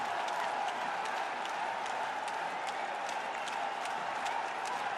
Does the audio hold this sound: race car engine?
no